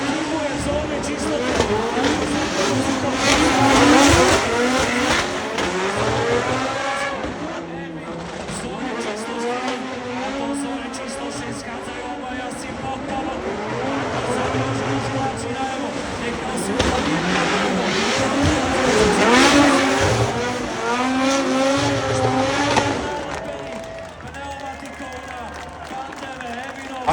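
Race car engines roar and rise in pitch as cars approach and pass on a street circuit in Ostrava, with an excited Slovak commentator talking over the noise throughout.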